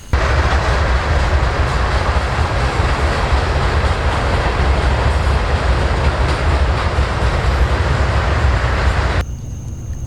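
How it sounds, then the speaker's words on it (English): A train rolls past a hammock campsite in the Upper Hillsborough Preserve, a loud, steady rumble with rhythmic clatter of wheels on rails that continues for several seconds before cutting off abruptly. "So that was yet another train."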